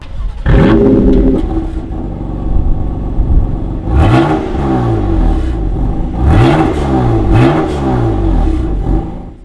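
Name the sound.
sports car revving with titanium exhaust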